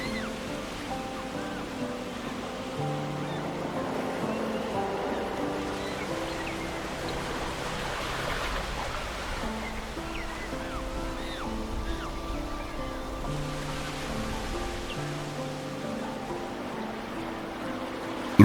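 Ocean waves wash steadily along the shore at Boulders nature reserve in South Africa, a soft, even surf rumble with a faint wind layer and no clear voices.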